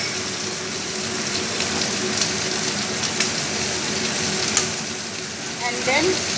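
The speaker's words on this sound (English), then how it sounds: "This I will bring to a boil." Tomato masala with Kashmiri red chili powder and salt bubbles and sizzles in a pan, a steady close crackle with a few sharp pops and faint background hum.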